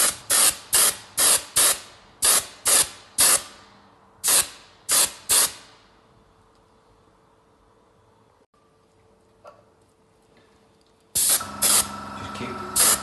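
Short, sharp bursts of spray paint repeat in a quick rhythm as thin coats go onto a repaired ceramic toilet, then fall quiet before a longer spray burst resumes near the end.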